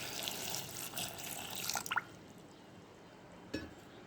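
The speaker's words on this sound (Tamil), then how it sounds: "இப்போ இது வேக வைக்கிறதுக்கு தேவையான அளவுக்கு தண்ணி ஊற்றிக்கலாம்." Faint water pours into a pressure cooker with jackfruit seeds for about two seconds and stops, followed by quiet and a single soft clink.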